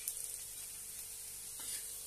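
Onion chutney seasoned with red chili powder, salt and garam masala sautés in a pan, giving a faint, steady sizzle with a soft hiss throughout.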